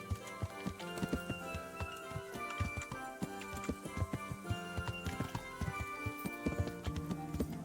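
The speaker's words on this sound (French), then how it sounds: "Et le cheval." Clip-clopping horse hooves at a steady trot over layered music in the video game Kingdom Come: Deliverance, with a bright tonal background and a continuous rhythmic beat.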